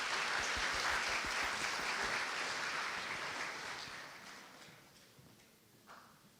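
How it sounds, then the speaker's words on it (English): Audience applause greets a vice president, Dr. Han-sung Kim, at a university opening and orientation ceremony, a dense steady clapping that slowly fades out over several seconds. "Please welcome him with a big applause."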